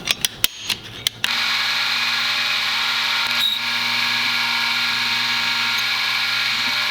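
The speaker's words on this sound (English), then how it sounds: "I drilled a hole." A mini mill drills a hole to replace a broken screw: a few sharp clicks, then a steady, close, high-pitched whine of the spindle running continuously without pause.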